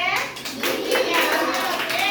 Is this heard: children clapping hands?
yes